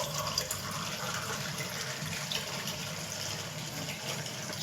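Water pours steadily into a cooking pot for shahi biryani with chicken, a continuous close splashing gush without pause, and no speech over it.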